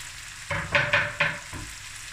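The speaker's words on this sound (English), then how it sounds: "now I'm going to add the rest of my cabbage. And the cabbage cooks away quickly" Cabbage sizzling as it is stirred into a pot with sausage, a few short bursts of frying hiss and stirring over a quiet background, with no talking.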